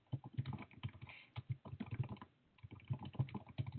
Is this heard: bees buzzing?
no